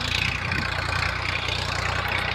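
A tractor engine runs close by while being driven, giving a steady, loud drone with a low, regular throbbing pulse and no voices.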